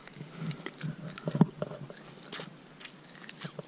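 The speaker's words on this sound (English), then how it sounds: "Come eat up the corn. Eat up all the seed, corn seed." An animal eats corn seed close by, with irregular crunchy bites and chewing that are fairly quiet, plus one sharper crunch partway through.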